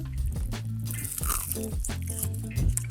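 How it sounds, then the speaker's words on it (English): Crunchy fried orange chicken is bitten and chewed up close, giving a dense run of crackling crunches and moist squishing for a few seconds. "Let me just grab a piece of this, and I'm gonna show you how crunchy it is"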